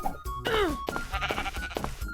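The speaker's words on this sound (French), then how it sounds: "Mouton, par ici." Sheep in the Minecraft video game giving a loud, wavering bleat near the start, followed by further bleats amid busy game noise, with no talking.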